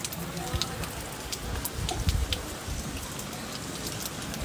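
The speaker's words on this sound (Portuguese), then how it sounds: "Ó o tanto de chuva que tem." Heavy rain falling outdoors in a rural town, a dense constant patter with scattered sharper drops hitting surfaces, moderately loud and unbroken.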